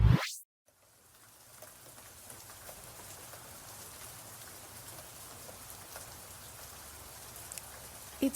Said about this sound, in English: Doesn't it feel so good to hear the raindrops hitting our roof and windows?